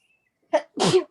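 A single sneeze in a quiet room during a macrame group meeting: a short sharp intake followed by a louder explosive burst, close and clear, with no talk over it.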